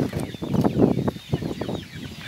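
Chickens clucking close by in a backyard in short, uneven bursts, with a few overlapping calls from the flock.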